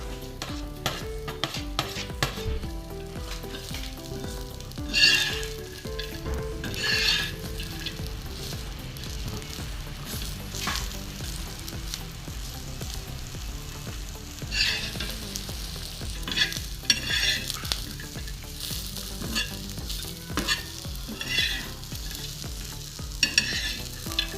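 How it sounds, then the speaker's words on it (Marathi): Onions roasting with coconut in a pan for a spicy kadai chicken curry, a steady sizzle under repeated scraping and stirring of the spatula, with a few louder clatters, continuous and close with no talking. "आता कांदे भाजून घेऊ खोबऱ्यासोबतच"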